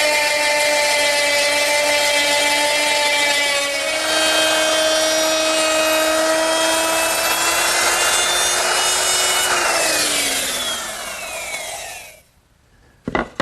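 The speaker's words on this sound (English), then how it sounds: "now I'm going to mill the corresponding edge of the leaf with a 3/8 inch cove bit" A router fitted with a 3/8 inch cove bit mills the edge of a harvest table leaf, giving a loud, steady high motor whine with wood-cutting noise for about ten seconds before the motor winds down and stops.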